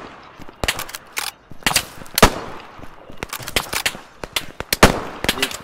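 Gunfire in the tactical shooter video game Operation: Harsh Doorstop, with irregular bursts and single sharp shots cracking close and loud, some rapid suppressive volleys, with no talk over them.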